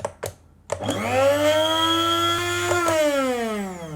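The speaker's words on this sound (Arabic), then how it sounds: "نجرب الاول مطحنة وهي فاضية عشان نتأكد ان صوتها لسه طبيعي" After a few sharp clicks, an empty Braun coffee grinder motor spins up into a loud, close, high-pitched whine that holds steady for about three seconds, with a brief knock partway through.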